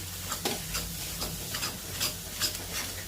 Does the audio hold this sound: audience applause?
no